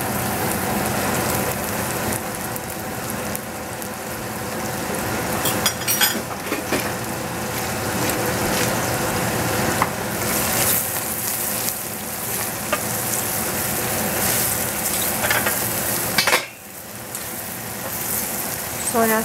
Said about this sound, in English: Now we put in the mushroom.